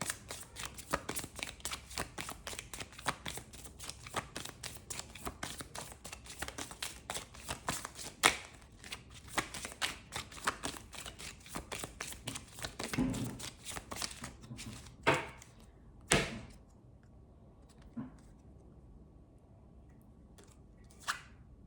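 Tarot cards being shuffled by hand, a long run of quick papery riffles and flicks close to the microphone, tapering into a few separate slaps and taps near the end.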